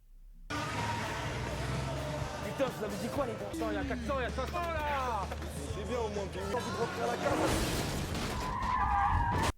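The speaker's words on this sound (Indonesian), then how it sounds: "tiba-tiba ada mobil yang nabrak mereka" In a film scene, a car's tires squeal in long, wavering skids, then a heavy broadband impact hits as it crashes into another car, amid engine roar and background voices.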